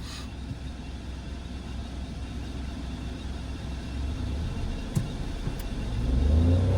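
A car engine hums at low revs while a driver works the clutch on an uphill climb, a steady close drone that swells and revs louder toward the end, with no talking over it.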